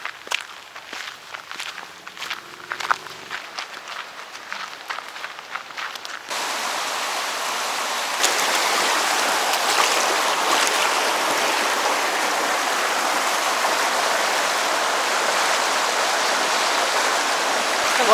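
Cold mountain stream water rushes over rocks beside a hiking trail, a steady broadband roar that swells louder partway through after a stretch of footsteps on the path.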